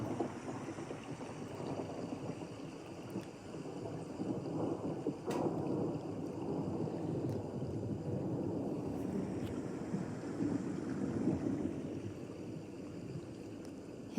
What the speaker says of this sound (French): juste profiter de ce son de la pluie qui tombe sur les carreaux